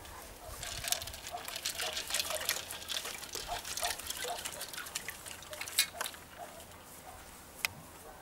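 Ice-cold water splashes down over a person during an Ice Bucket Challenge, a gushing pour that breaks into patter and scattered drips, fairly faint, with sharp splats as it tapers off.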